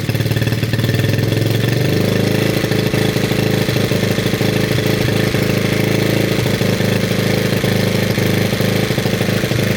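A restored 1972 Honda Trail 70 motorcycle cold-starts after sitting for a couple of weeks, catching about two seconds in and settling into a loud, steady, close single-cylinder idle with no talking.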